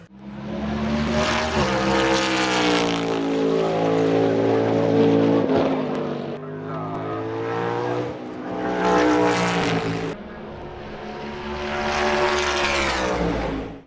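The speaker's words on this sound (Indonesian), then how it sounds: "dengan spesifikasi tersebut dan tenaga yang besar, mobil ini akhirnya memiliki suara yang benar-benar luar biasa mengagumkan" A NASCAR stock car racing at Le Mans roars loudly with a rising and falling engine note, revving up and shifting through gears across several passes with no talk over it.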